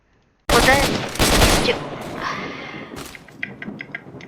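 Bursts of rapid gunfire in the video game STALKER crackle loudly, followed by a few scattered single shots fading out.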